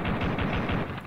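Rapid gunfire from a video game played on a Retro Minis Neo handheld, a dense continuous burst of loud shots filling the whole moment with no talking.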